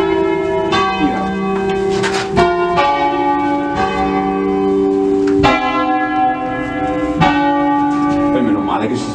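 Church bells rung by hand in a solemn bell concert at Bresso, near Milan, ring out loud and close in a steady, overlapping series of strikes with long, ringing tones that hang over each other.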